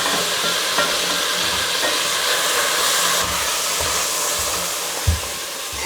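Braised beef and onions sizzle and hiss steadily in a hot pan, with occasional soft knocks and scrapes as the first batch is tipped back in with its juices, no talking.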